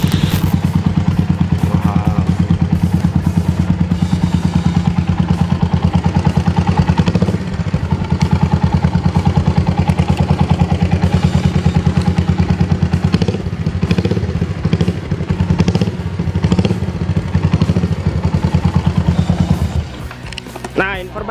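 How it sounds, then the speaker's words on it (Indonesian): A Thunder 250 cc single-piston, twin-port motorcycle engine runs steadily nearby with a loud, deep, rhythmic throb and some mechanical clatter, holding an even idle before dropping off near the end. "Inilah suara motor Thunder 250 cc nya. Ini suaranya."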